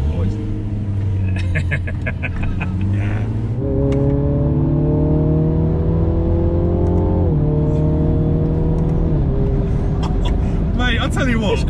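A 2020 Mini Clubman JCW accelerates in sport mode through Bruges, its engine note climbing in pitch through stepped gear changes, loud from inside the cabin with people talking over it.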